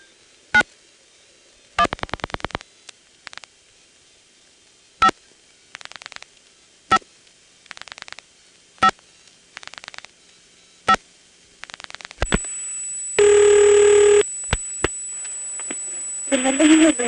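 Pulse dialing on a senderized step-by-step exchange in Prince William County, Virginia: short bursts of rapid clicks, each digit answered by a repeated train of clicks, then tones and a high steady signal near the end.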